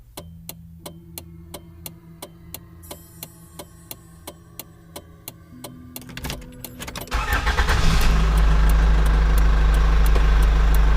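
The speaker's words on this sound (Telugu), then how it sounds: "కారు స్టార్ట్ చేస్తే స్టార్ట్ అవ్వట్లేదు." A car engine cranks and catches after a long stretch of steady ticking, then settles into a loud, continuous run that dominates the rest of the sound.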